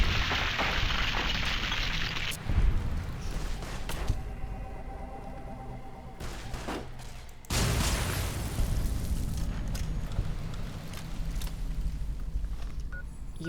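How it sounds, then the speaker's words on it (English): A grenade explodes in Fallout: New Vegas: a loud broadband blast and rumble that cuts in abruptly, followed by a sustained noisy roar with crackling debris, alongside game music and ambience. "How dare you throw a grenade at me?"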